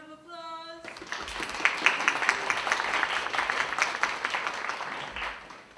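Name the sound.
audience applause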